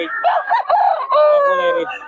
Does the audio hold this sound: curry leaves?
no